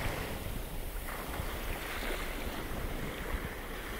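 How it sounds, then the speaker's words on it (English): Ocean waves roll in steadily on a beach at Mexico Beach, Florida, a continuous broad wash of surf with wind buffeting the microphone, no voices. "I hope you got the sounds of the waves coming in."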